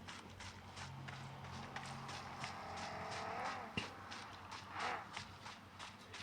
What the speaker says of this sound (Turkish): Ama araba geliyor.